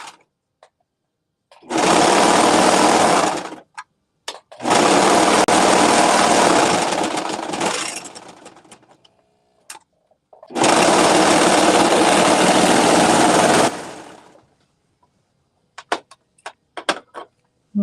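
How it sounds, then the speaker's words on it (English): A serger finishes the edges of a sweatshirt top in three loud, fast-running bursts of several seconds each. Brief quiet gaps separate them, filled with small clicks and fabric handling. "I just like how the serger makes it look so nice"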